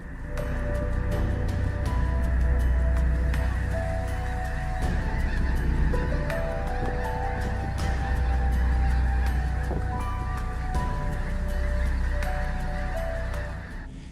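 Invasive geese honk loudly and continuously, many overlapping calls from a nearby flock with no talking.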